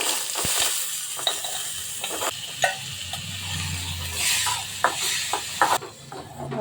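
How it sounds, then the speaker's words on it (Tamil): Boiled peanuts stirred into a sizzling mustard seed and curry leaf tempering in a pan, with a steady fry hiss and scattered scraping clicks close up. "இப்போ இதில் நம்ம வேக வச்ச வேர்க்கடலையே போட்டுக்கலாம்."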